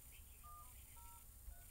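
Faint telephone keypad tones sound as a call is placed into an office phone system: a short sequence of separate beeps over low background hiss, with no talking.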